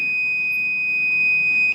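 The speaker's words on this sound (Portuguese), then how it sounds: "ele vai acionar o bip indicando que está havendo continuidade" A multimeter gives a continuous high steady tone during a continuity test while a microwave oven is being repaired, sounding alone for under two seconds and cutting off abruptly at the end.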